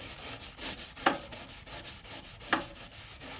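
Scrubbing a treasure chest clean: quiet repeated rubbing and brushing strokes on wood in a steady back-and-forth rhythm, with two sharper scrapes standing out, close and faint.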